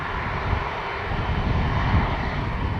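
Airliner with Rolls-Royce Trent 700 engines at Dublin Airport, a steady loud roar of jet engines holding throughout with no talk.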